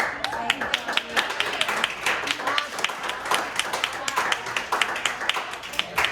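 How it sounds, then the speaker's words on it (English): Audience applauding at a science talk event on gravitational waves, a dense steady patter of hand claps filling the room for several seconds, with scattered voices mixed in. "Another round of applause for this brilliant young man."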